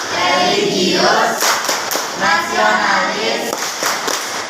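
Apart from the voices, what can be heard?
students doing rhythmic hand clapping (Tepuk PPK)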